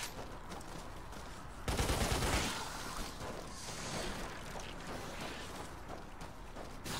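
Weapons fire against aliens in the game Lost Planet 2 comes as a sudden, loud broadband burst that rushes in partway through, then settles into a softer sustained roar and hiss as it fades back down.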